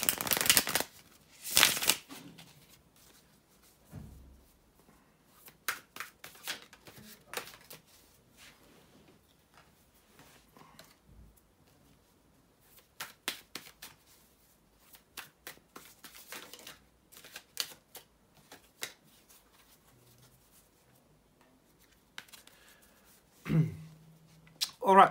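Tarot cards shuffled by hand in quiet bursts of crisp riffling and flicking, several separate shuffles with short pauses between them, close to the listener.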